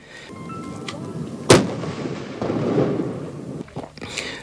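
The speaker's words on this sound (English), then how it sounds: "ranging from ceremonial parade to the 21-gun salute and cannon firing" A single sharp, booming cannon shot from a 21-gun salute at a funeral rings out loud and close, then trails off into a rumbling echo over a steady outdoor hiss.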